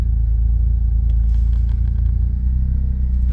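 A rebuilt Smart car drives on a local road in Lincolnshire on a cold January afternoon, its engine giving a steady, heavy low rumble with light clatter, with no talk.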